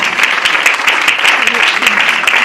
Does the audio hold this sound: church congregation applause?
yes